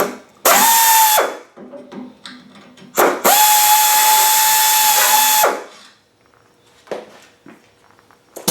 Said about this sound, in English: I'm going to drill this one up from the bottom